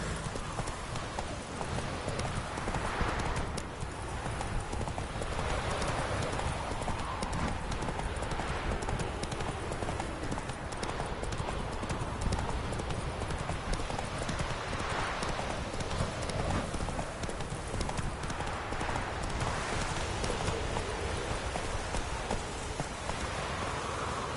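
Horse hooves clip-clop at a steady rhythm in The Witcher 3 video game. The ride goes on without a break, over a constant bed of rain-like ambient noise.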